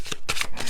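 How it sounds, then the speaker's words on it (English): A New Orleans deck of cards is shuffled up close, with three quick riffling bursts in a brisk rhythm. "All right, one more shuffle."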